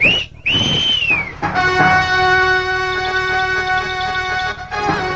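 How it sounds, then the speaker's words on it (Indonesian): A loud, clear whistle rises and holds, then a long sustained tonal whistle rings out alone over a low background. "Siulan Ki Jagalpati yang memecah kesunyian malam terdengar hingga keempat penjuru penginapan"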